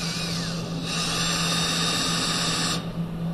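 A power driver steadily runs torque screws into a plastic electrical box for a basic home circuit, a continuous close whine holding for about three seconds before easing off near the end.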